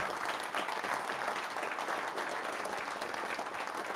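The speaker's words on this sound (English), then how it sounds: "A round of applause, please." Audience at a Politics in the Pub talk claps in a steady, dense round of applause lasting throughout, fairly close and loud with no voices over it.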